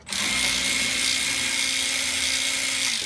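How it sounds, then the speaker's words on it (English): Cordless 1/4-inch ratchet whirring steadily while loosening a fuel filter clamp on a 1998 Ford Expedition 4.6L, a close, loud continuous motor whine running the full length without pause. "all I gotta do is loosen that clamp back up. And by the way, it's easy with the cordless 1/4-inch ratchet"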